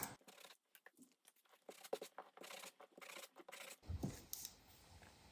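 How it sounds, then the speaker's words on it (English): Sandpaper rasping over craft paper pieces to distress them for a junk journal, a quick run of dry scratchy strokes, close and fairly quiet, with a rougher burst of rubbing near the end. "I'm going to grunge them up a little bit with some sandpaper."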